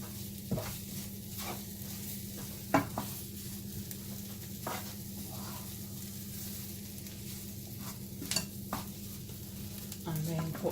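Pork juices sizzling and cooking off in a pan, a steady soft crackle with occasional scrapes and taps of a utensil against the pan, close and moderately quiet with no talking.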